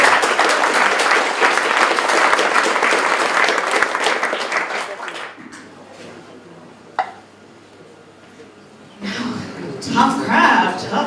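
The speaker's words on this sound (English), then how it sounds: "Can we get a big round of applause?" Audience at a startup pitch event during Amsterdam Capital Week breaking into loud, dense applause that fades after several seconds, followed by quieter room noise and a brief renewed swell near the end.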